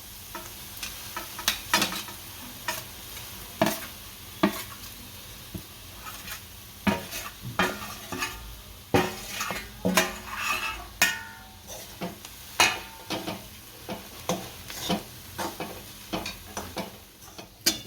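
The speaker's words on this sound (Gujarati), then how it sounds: "અને હલાઈ નાખશું સારું। રોટલી સારી રીતના ભળી ગઈ છે," Leftover roti pieces being stirred into chevdo in a hot pan, with repeated scraping and clinking of a spoon against the metal over a soft sizzle, steady and close for the whole stretch.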